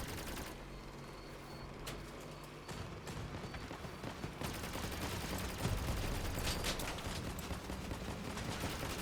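Sustained minigun fire from a vehicle in the combat game Crossout rattles on continuously for the whole stretch, dense and loud, with no talk over it.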